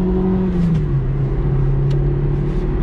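A 1992 Citroen ZX 1.4i with 75 hp pulls at full throttle in city traffic, its engine droning loud and steady from inside the cabin, with the pitch shifting slightly as it accelerates.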